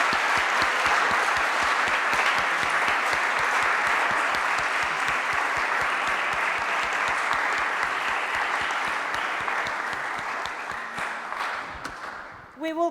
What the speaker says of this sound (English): Please join me in a big round of applause for Andrés Jaque.